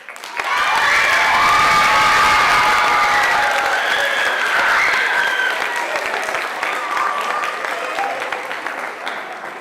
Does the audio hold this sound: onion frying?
no